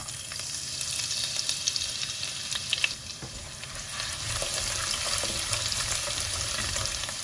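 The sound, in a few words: garlic and fenugreek frying in hot oil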